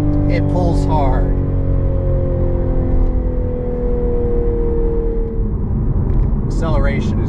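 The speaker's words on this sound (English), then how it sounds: "Acceleration is great in this car" A 2023 Toyota GR Supra 3.0 engine revs and pulls hard, its rising drone steady and loud throughout, with someone speaking over it at the start and end.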